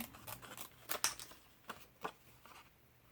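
Scissors snip out a paper cupcake liner shape during card making, giving a few quiet, separate crisp cuts with short pauses between them.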